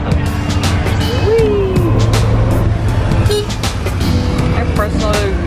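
Car traffic moves along a busy rush-hour road in Odisha, India, with the close, constant rumble of engines and a few horn toots layered through, while people talk over the street noise.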